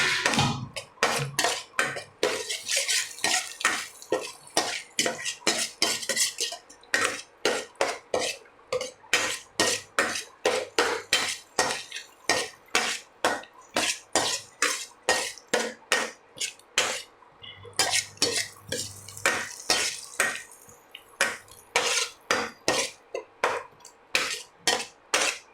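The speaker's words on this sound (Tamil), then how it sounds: "நல்லா வதக்கிக்கிட்டே இருக்கலாம்." A metal spoon stirs and sautés egg in a pan with fast, steady rhythmic clanking and scraping, close and loud, continuing without speech.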